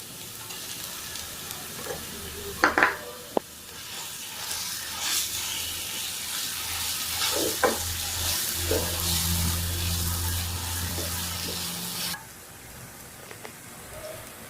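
Mashed potato stuffing for aloo paratha is stirred in a hot pan, a steady sizzle broken by scraping strokes and clinks of the spoon against the metal.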